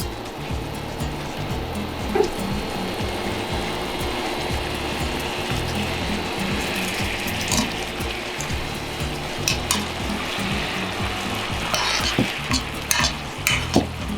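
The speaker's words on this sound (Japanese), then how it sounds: "沸騰させて煮詰めていきます。" Worcestershire sauce, ketchup and red wine boiling down in a pan, a steady bubbling sizzle with occasional stirring scrapes, fairly loud and continuous with no talk.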